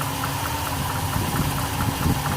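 A Ford 390 FE V8 idles steadily, a continuous low rumble with a faint ticking pulse throughout, close and fairly loud with no talk over it.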